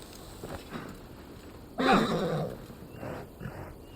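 A horse in the PS5 game Assassin's Creed Valhalla gives one loud, close whinny midway, set against a quieter background of soft game sounds and a few fainter snorts.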